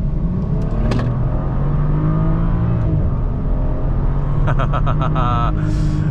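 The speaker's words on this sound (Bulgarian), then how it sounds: "Чудесно звучи този двигател, определено има какво да се каже за М55 и неговия звук." A BMW 435i with the N55 engine pulls hard under acceleration in a steady, loud interior drone that climbs in pitch, heard from inside the cabin. Someone talks over it, and a short burst of chiming tones comes near the end.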